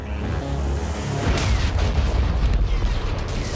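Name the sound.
explosion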